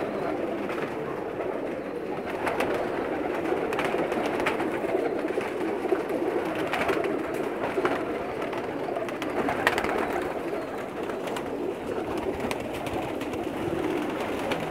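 Many Pakistani pigeons, Sialkoti breed, cooing together nearby, a continuous low burbling chorus with occasional flutters, steady throughout.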